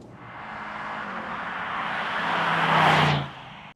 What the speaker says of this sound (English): really get to hear that V8 in all its glory, but I can still hear it through here